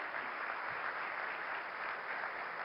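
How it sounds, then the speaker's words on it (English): Applause from a conference audience at a large hall event rolls on as an even, distant wash of clapping, fairly faint, with no other sounds. "Please give him another round of applause for this."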